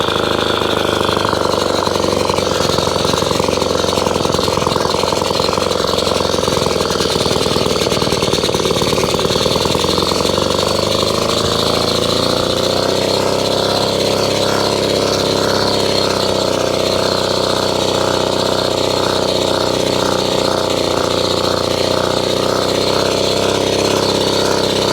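An Atco Midget lawnmower with a Villiers engine runs loud and close while cutting grass, a steady buzzing drone with slight shifts in pitch and load throughout.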